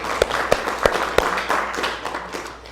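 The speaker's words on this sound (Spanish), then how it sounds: "Un aplauso al Señor, hermanos." A congregation applauds the Lord during a Spanish-language church seminary service, with a crowd of clapping hands for about three seconds. A few sharper, louder claps stand out in a regular rhythm near the start.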